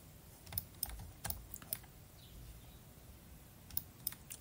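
Quiet computer keyboard typing and mouse clicks while working in SketchUp: scattered single taps and short bursts of clicks, soft and close, with no talking.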